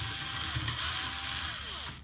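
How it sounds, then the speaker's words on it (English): A power driver spins Torx T10 screws out of a TiVo Roamio motherboard, a close, steady mechanical whir with ratcheting clicks and a pitch that rises and falls as the screws back out. "These are Torx T10 screws. Again, we're using our power driver"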